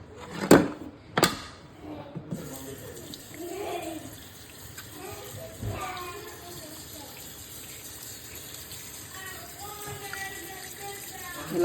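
Fish rinsed under a running tap, water gushing softly and unevenly with a few sharp knocks at the start and occasional splashing and handling sounds, fairly faint overall.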